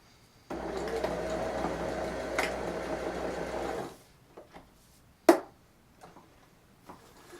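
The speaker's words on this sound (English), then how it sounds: "She's going to go ahead and just do a quick little back stitch, and then we're going to take it off the machine" A domestic sewing machine runs a short back stitch while sewing comfy pants, a steady rapid mechanical whirr for about three seconds, then stops and is followed by a few quiet clicks and a sharp handling knock.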